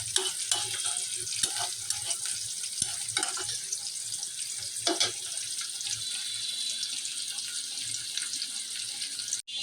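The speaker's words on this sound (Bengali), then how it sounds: "আমি ভাজা পর্যন্ত ওয়েট করব।" Onions frying in a pan for a Bangladeshi pangash fish curry, a steady dense sizzle running throughout at close range with scattered clicks and knocks from stirring, no talking.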